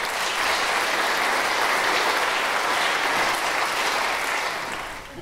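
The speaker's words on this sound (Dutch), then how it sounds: "Mag ik een applaus?" Audience at the opening of a cultural venue stage applauding, a dense, sustained wash of many hands clapping at even loudness that tapers slightly at the end.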